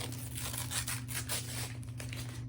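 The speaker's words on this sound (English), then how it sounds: "Let's just unwrap it." Paper wrapping is torn and pulled off a hardcover book. Quiet, continuous ripping and crinkling comes in several rough bursts close by, with no talk.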